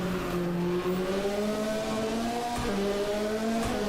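Ford Escort Cosworth race car at a European Hill Climb Championship round, engine droning hard from an onboard position low near the splitter, with a brief pitch dip around a gear change; loud and continuous.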